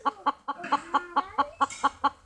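A broody garden hen that has just laid and begun sitting on her nest, clucking loudly and close in a rapid, evenly spaced series of about a dozen calls, with a faint second bird underneath.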